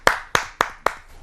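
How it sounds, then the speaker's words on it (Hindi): Four evenly spaced hand claps, sharp and close, from an audience welcoming a poet at a kavi sammelan, ending after about a second. "उनको आमंत्रित करते हैं हम आप सबकी जोरदार तालियों से"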